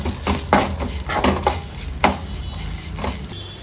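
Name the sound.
frying spices with garlic and ginger in a pan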